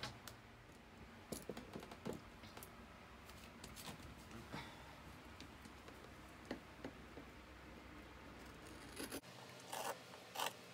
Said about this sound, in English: And then we're just going to cut it right down.